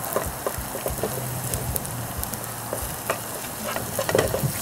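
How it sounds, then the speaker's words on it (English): Garlic and ginger fry in olive oil in a pan on an outdoor camping stove, giving a steady close sizzle with light crackles and occasional stirring scrapes. No one speaks. "let's fry the garlic and ginger a little bit"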